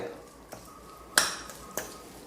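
A spoon mashes salted egg sauce in a bowl, giving a few sharp, scattered clinks and taps over a quiet background.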